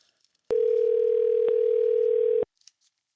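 A steady telephone dial tone runs loud and unbroken for about two seconds while a call is placed again, then cuts off, leaving near silence with a few faint ticks.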